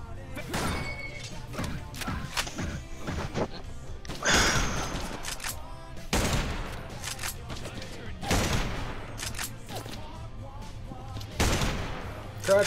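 Bursts of gunfire in the video game Wasted, rapid shots and impacts crashing in clusters with thuds and smashes, loud and close, a voice speaking between the volleys.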